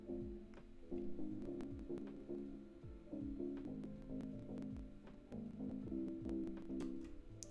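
Synthesizer chords with an ethnic flavour from a music track, repeating in a steady rhythmic pattern at low level, with clicks and crackle running through the playback.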